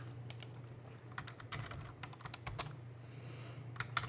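Keys clatter on a computer keyboard as a login password is typed at a Linux prompt: rapid, close, fairly quiet keystrokes in an uneven run over a low steady hum, with no talking.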